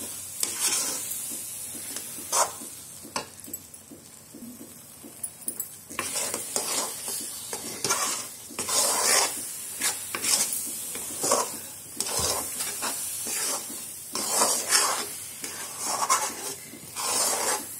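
Coconut barfi mixture cooks down in a pan while a spoon scrapes and stirs it, producing repeated rasping strokes over a soft sizzle, close and without speech.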